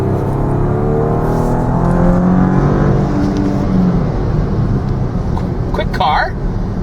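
A 2017 Porsche Panamera 4S accelerates, its engine and exhaust giving a loud, steady drone heard from inside the cabin, with some voice sounds mixed in.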